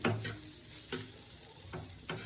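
A spoon stirs a semolina and potato mixture in a pan for a spicy suji aloo snack, with a few soft scraping strokes at uneven intervals over a faint background hiss, close by.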